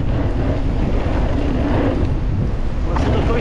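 Wind gusting hard across a microphone on a World Cup downhill mountain bike track, a loud continuous roaring buffet that fills the whole moment with no pauses.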